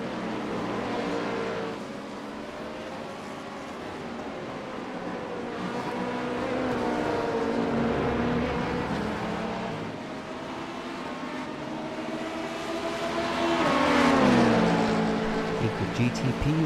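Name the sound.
LMP2 and GTP race car engines in iRacing video game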